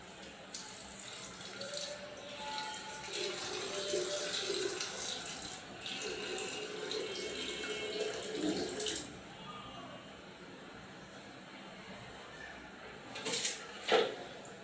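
Water runs and splashes steadily for several seconds into a container for mixing with blended sugarcane juice, stops, then gives a brief, louder splash near the end; a voice is faintly present.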